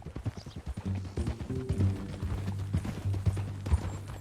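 Horse hooves clip-clop steadily in Red Dead Redemption 2, with a rhythmic run of close, loud hoofbeats over a low droning background.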